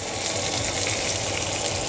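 Brussels sprouts browning in a hot pan give off a steady, dense sizzling hiss that holds even and unbroken throughout, with no voices over it.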